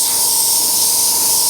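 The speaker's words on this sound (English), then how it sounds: "you can hear that compressor only kicks in when needed" Airbrush compressor for an Iwata HP.CS Eclipse running with a steady hiss of air and a constant hum, loud and close, continuous through the short stretch.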